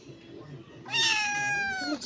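A female cat meows once, loud and close, a drawn-out wavering cry following a quiet stretch of low room noise.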